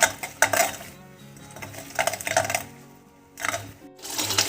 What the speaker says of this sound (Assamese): অকণমান দি 5 মিনিটমান লৰাই থাকোঁ।